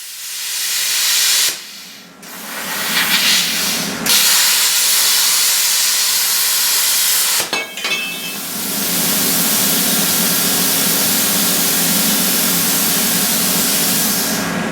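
An Everlast Power Plasma 60S plasma cutter with a Tramifit S75 torch cuts around a vehicle axle flange, a loud, close, continuous hiss broken by two brief stops before it restarts and runs steadily.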